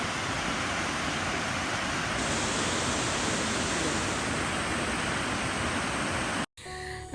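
Aanayadikuth waterfall roars as a dense, constant broadband wash of falling water, loud and close, cutting off abruptly near the end.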